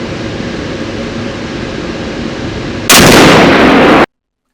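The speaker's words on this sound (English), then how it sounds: "My very first trigger pull with live ammo actually fired 2 barrels in rapid succession." An ATI triple-barrel shotgun with live ammunition fires two barrels in rapid succession on one trigger pull, a single loud broadband blast that overwhelms a steady noisy background and cuts off abruptly.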